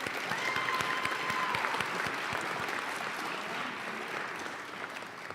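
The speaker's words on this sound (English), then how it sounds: "Let's give these ladies a round of applause." An audience at a high school senior awards day claps for award recipients, a steady, moderately distant patter of many hands that holds evenly and slowly fades toward the end.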